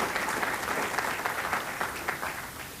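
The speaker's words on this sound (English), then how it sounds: "give yourselves a big round of applause" Applause from an audience at an awards ceremony in a council chamber, dense and steady clapping from a large crowd that holds at an even level and then slowly thins.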